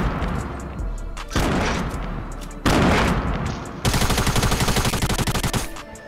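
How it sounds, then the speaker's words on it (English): Dense gunfire from the Fortnite video game, rapid automatic bursts and heavy shots rattling continuously across the whole stretch, loud and close, with a faster machine-gun volley near the end and no talk over it. "we are getting shot everywhere"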